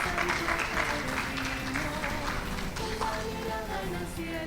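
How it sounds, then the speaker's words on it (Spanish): Audience at an academic congress giving a warm welcoming applause to speakers, dense continuous clapping from a large room that holds steady throughout, with a faint murmur of voices mixed in. "Los recibimos con un fuerte aplauso."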